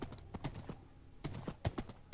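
Horse hooves clip-clopping in the Minecraft video game, a series of separate hollow clops in uneven pairs and clusters, fairly close and alone with no talk.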